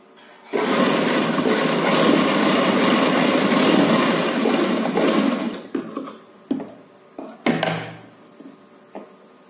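A sewing machine stitches the folded ends of an umbrella baby frock, running in one loud, steady close whir for several seconds, then stopping and starting in short bursts.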